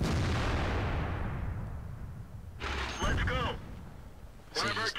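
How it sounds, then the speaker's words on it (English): A tank's main gun in World of Tanks fires, a heavy boom that decays slowly, followed by two shorter sharp bursts of metallic impact or shell sound a few seconds apart. "Let's see if I can get a shot through."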